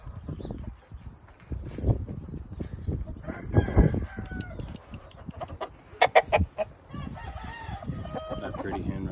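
Griffin Claret gamefowl on a Perryton, Texas farm cluck and scratch nearby, with crowing roosters rising among the birds. Someone talks quietly under the sounds.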